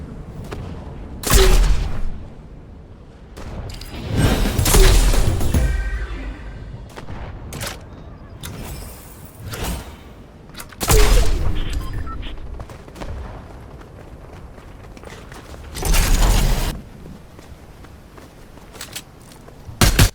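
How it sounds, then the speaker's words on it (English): Fortnite gunfight with several loud bursts of gunfire and explosive booms spaced across the stretch, footsteps and lighter shots filling the gaps, the heaviest volleys coming close. "I hear the unmistakable sounds of a gunfight and step in for the third party"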